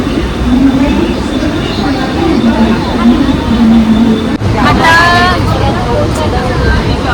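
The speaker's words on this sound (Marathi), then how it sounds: "आता आम्ही चर्चगेट ट्रेनमध्ये बसलो आहे" A Churchgate-bound Mumbai local train runs with a steady, loud rumble throughout, heard from inside, with a brief clatter partway through and murmuring voices in the carriage.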